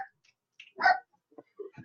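A pet dog barks indoors at someone walking past the house, giving a few short, sharp barks close by in a quiet room, with a single loud bark standing out among softer yips.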